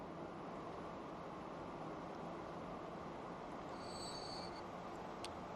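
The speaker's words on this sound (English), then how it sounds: "There's the trains heading into that depot down there." Trains rolling into a depot in the railway simulation game Transport Fever, a steady, low rumbling hum with faint background hiss that holds even throughout, with one brief higher squeal near the end.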